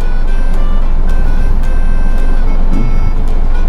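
Electric leveling legs on a luxury motorhome run with a steady, close motor whine and a string of evenly spaced clicks or beeps, loud and continuous with no talking.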